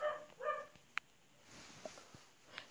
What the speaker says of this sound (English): That's my dog if you hear any barking.